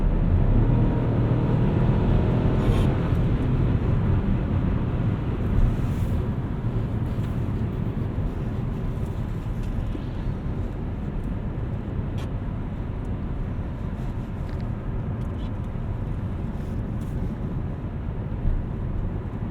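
Steady, broad wind and road roar fill the cabin of a 2021 Chevy Trailblazer while driving, a constant loud rush with low-end rumble and no talking.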